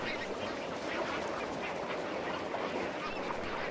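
A large flock of lesser flamingos calls in a continuous, dense honking chatter. Countless overlapping voices merge into a fairly soft, unbroken wash of sound.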